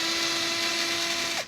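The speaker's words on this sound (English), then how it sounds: "Just take these two screws off while they're accessible" A power screwdriver whirs with a steady high whine for a moment while backing out screws from the headlight covers of a 1986 Porsche 944 Turbo, then winds down abruptly.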